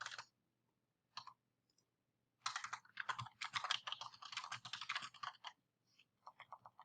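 Typing on a computer keyboard while editing website text in Cornerstone: a short tap, a brief pause, then a busy run of quick, close key clicks, ending in a few scattered strokes.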